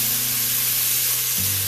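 Cooking oil goes into a pan holding whole garam masala spices while aloo gosht is being made, giving a steady, close hiss and sizzle over a low hum, with no talking.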